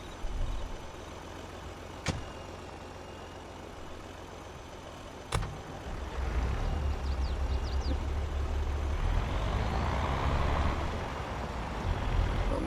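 A logging truck in the farming game Korpi idles with a low engine rumble, broken by two sharp air-brake hisses, then the engine swells louder and holds a heavier drone to the end.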